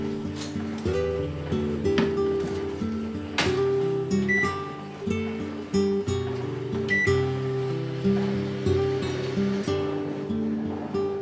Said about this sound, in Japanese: 耐熱容器に入れてふわっとラップをし、600ワット約2分半加熱して火を通します。